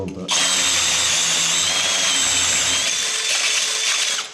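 A rotary hammer chisels out brick to make a recess for a socket box, a loud continuous grinding clatter that starts abruptly and runs steadily close by, with no speech over it.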